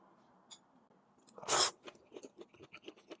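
Boiled mussels with shredded radish being eaten close up: a few soft chewing sounds, then one loud wet bite near the middle, followed by a run of quiet, rhythmic chews with no talking.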